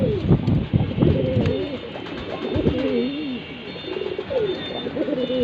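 A pair of aluminium silver pigeons coo repeatedly in soft, rolling, throaty phrases at close range, with a faint voice in the background.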